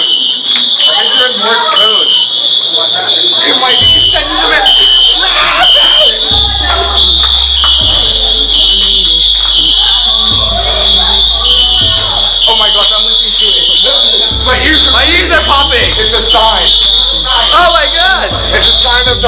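A school fire alarm blares loud and continuous, a piercing steady tone held throughout with pulsing low beats and background voices and babble beneath it.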